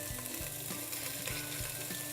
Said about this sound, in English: You need to make sure you hear that sizzle.